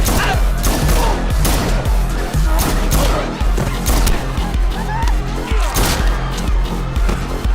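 Rapid pistol gunfire from a Glock 34 competition pistol in a John Wick 2 action scene, with dense repeated sharp shots, crashes and thuds layered over a constant loud cinematic mix of music and effects.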